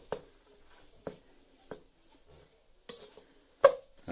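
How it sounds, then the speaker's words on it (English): A butter knife stirring cubed butter into flour in a bowl for homemade sausage rolls, giving a few sparse, close clinks and scrapes against the bowl with quiet pauses between them. "I'm just going to stir the butter in with the flour"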